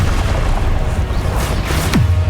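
A Confringo explosion spell cast in Hogwarts Legacy, a dense booming burst with a sharp crack and sweep near the end, loud and close amid continuous game din.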